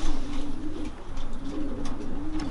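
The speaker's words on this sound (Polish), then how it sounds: "bardzo ładny gołąbek" A female pigeon cooing close by in a repeated low, throaty rhythm, with faint background noise and no talking.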